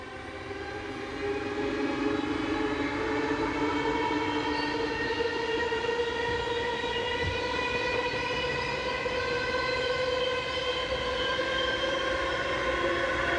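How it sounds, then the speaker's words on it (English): Two Dutch intercity train units, 4223 and 4071, running west on the Venlo to Den Haag service, pass with a steady, loud rolling rumble and sustained tonal whine that holds for the whole stretch after a brief quieter start. "unit numbers 4223 and 4071 head west whilst forming the 1249 Venlo to Den Haag intercity service"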